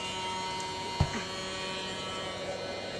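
A heat gun set to low blows to warm resin on painted coasters, a steady close electric whir and hum with a brief knock about a second in.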